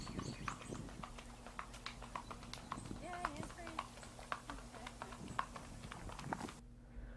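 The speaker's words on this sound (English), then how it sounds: "this is a foxtrotter doing a nice little saddle rack" Hooves of a Missouri Fox Trotter horse in a saddle rack gait beat out a quick, even clip-clop at a moderate distance, a steady four-beat patter under a low hum, while someone talks over it.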